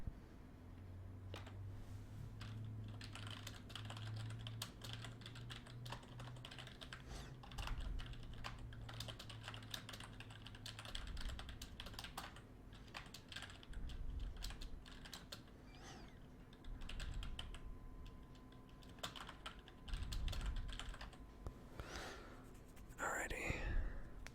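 Random typing on a computer keyboard during a Hearthstone session, a steady stream of soft clicks and key taps running throughout, close and quiet, with whispering and faint background hum underneath.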